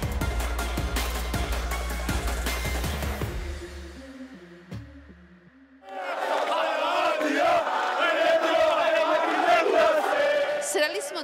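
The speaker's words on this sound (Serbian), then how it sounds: "Nema nikakvoga sukoba, samo navijanje, jer uskoro počinje fudbalska groznica." Two groups of football fans in Qatar chant and cheer, a rhythmic drum-backed crowd chant first, then a brief lull before a dense roar of many voices swells up again.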